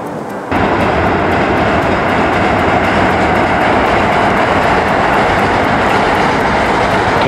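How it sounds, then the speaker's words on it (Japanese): A train rumbles past loudly after a brief quiet start, a dense continuous roar of wheels and rails that fills the whole stretch, in Adachi Ward, Tokyo, between Ushida and Horikiri. "電車ばっかり通ってますよ。"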